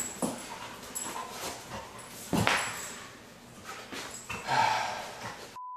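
A Labrador retriever used as a working dog whimpers and gives a few soft, short barks at moderate distance over steady background noise, with one louder burst near the middle.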